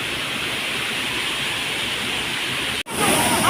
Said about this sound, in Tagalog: Pinipisakan Falls.